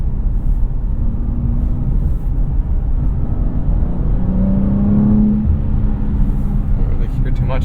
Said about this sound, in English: Let's try turning on the active exhaust and sound control on.